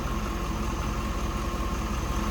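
A 5.7-liter LS1 V8 engine in a 2003 Chevrolet Corvette 50th Anniversary Convertible idles steadily and evenly at close range, a constant low rumble with no speech.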